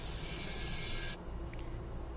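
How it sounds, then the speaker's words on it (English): Outdoor sawing close by gives a loud, steady rasping stroke that stops abruptly partway through, leaving quieter background noise. "hopefully he's done sawing for just a second now"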